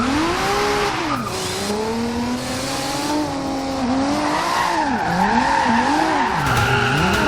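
Tyres screech as an RB26-powered Nissan Silvia S15 drifts in Forza Horizon 2, a loud sustained wailing squeal that bends up and down in pitch over a steady engine drone.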